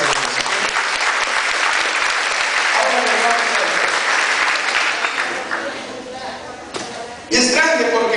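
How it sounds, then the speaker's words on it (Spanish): A congregation at a family retreat applauds, with sustained loud clapping filling most of the stretch and then tapering, followed by a brief renewed burst near the end. "¿Cuánto aplauden la grandeza de Dios?"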